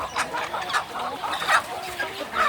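Free-range village chickens cluck in short repeated bursts at close range, several calls scattered over a low background hum.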